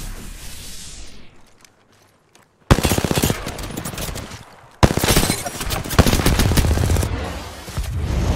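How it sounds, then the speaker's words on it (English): Rapid automatic gunfire in the battle royale game Apex Legends, two long loud bursts of fast-rhythm shots separated by brief pauses, with a quieter stretch and a near-silent gap before the firing starts. "I shot through the wall"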